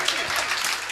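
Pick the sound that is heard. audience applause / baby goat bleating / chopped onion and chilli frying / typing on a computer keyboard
audience applause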